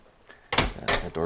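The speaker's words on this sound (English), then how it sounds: "Got that door closed as well." A house door closes with two firm thuds in quick succession, close to the listener, while someone talks over them.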